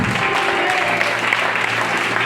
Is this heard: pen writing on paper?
no